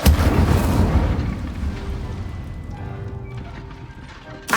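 An Incendio fire spell is cast in Hogwarts Legacy, starting with a loud, booming blast that fades into a crackling rumble over several seconds, then a second sharp burst at the end.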